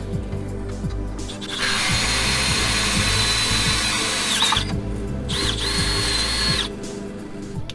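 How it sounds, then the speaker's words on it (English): A power drill bores a hole through the steel frame of a Jeep Wrangler JK, its loud, steady whine running in two long bursts with a short pause between, then cutting off near the end. No one speaks. "used his drill to make a mark on the metal where the hole needed to be drilled"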